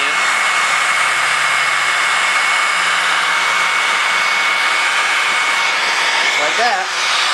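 Hair dryer blow-drying paint on a wooden heart, a loud continuous close whooshing roar with a steady whine, holding level throughout while a voice briefly speaks near the end.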